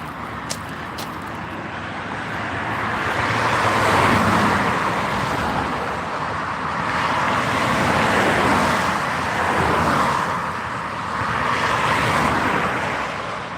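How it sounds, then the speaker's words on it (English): Steady road traffic rumbles along a countryside road, with several vehicles swelling and fading as they pass close by in loud, overlapping waves with no talk. "it's going to be quite noisy now, guys, because I've got to get across this traffic."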